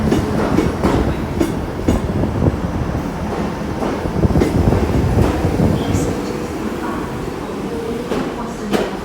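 A British Rail Class 158 diesel multiple unit, number 158771, serving the Barnstaple line, rumbles past close by with rhythmic wheel clatter over rail joints and faint squeals, under intermittent station noise.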